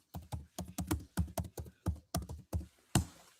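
Typing on a keyboard: about a dozen distinct, fairly quiet taps at an uneven rhythm, each a sharp click, with a slightly heavier one at the end.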